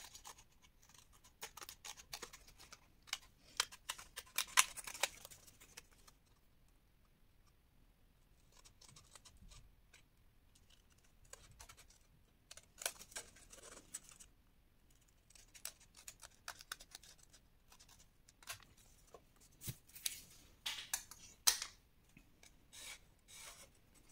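Scissors snip and rasp around a scrapbook paper base for an advent calendar, making quiet, close cutting strokes in irregular bursts separated by soft pauses, with no talking.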